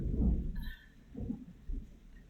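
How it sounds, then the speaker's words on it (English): Thunder outside, heard as low, deep rumbles with a heavy roll at the start and softer swells after it, at a distance and with no voices. "Do you hear the thunder outside?"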